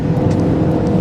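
A 2013 Ford Escape SE 4WD with the EcoBoost 2.0L turbo engine accelerating hard, a loud steady engine roar heard from inside the car, with no talk.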